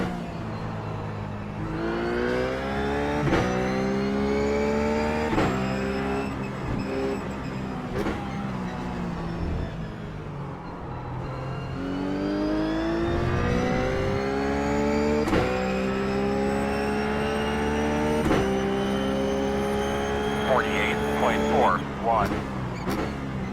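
BMW race car in iRacing at Motegi at night, its engine droning steadily with rising and falling revs through gear changes across the run, a voice talking over it.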